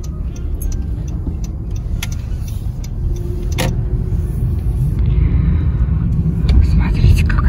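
A car driving along a snowy road in winter, a steady close engine rumble and road noise that grows slightly louder over time, with faint scattered clicks above it.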